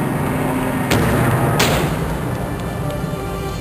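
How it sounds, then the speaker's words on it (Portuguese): Gunfire on the deck of the battleship Bismarck: two sharp broadband cracks roughly 0.7 s apart ring out over a dense, steady roar of battle noise, loud and close. "Carl, Walter e Heinz sabiam que logo deveriam enfrentar a saraivada de tiros no convés."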